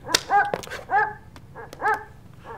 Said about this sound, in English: Could you just make him stop barking?